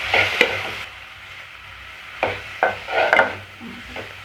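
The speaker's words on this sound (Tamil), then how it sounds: "இந்த தக்காளி நல்லா கரைஞ்சி வர அளவுக்கு வதக்கி விட்டுட்டே இருங்க" Tomatoes sautéed with salt and turmeric in a pan for dal sambar, a soft sizzle under several scraping stirs of a spoon against the pan, coming in short bursts close by.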